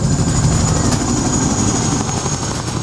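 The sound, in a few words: Chinook military helicopter flying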